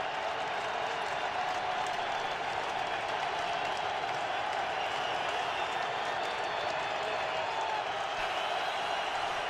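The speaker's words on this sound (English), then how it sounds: "And look at this crowd." Broad, steady roar of a football crowd in a Detroit stadium during a Cardinals at Lions NFL game, a dense wash of cheering and noise that holds level throughout without a break.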